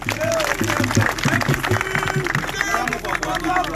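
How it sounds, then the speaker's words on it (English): Crowd applause and cheering ring out at a political rally in Edo State, mixed with loud voices and babble over the clapping. "A round of applause for him."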